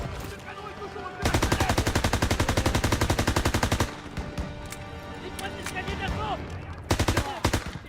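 Machine-gun fire in the Call of Duty WW2 video game, long rapid bursts of rattling shots, loud and close, stopping and restarting, with other battle noise and shouted voices between bursts.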